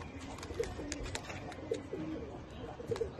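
Pigeons in a home loft cooing softly, with repeated low coos spaced through the moment over a quiet, slightly busy background; no speech.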